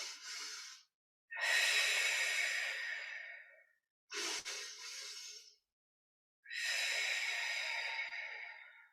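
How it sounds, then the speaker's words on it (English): Deep breathing during a core strength workout, with two breathy inhales and then a long exhale, close and clear with silent gaps between breaths. "2 inhales followed by an exhale."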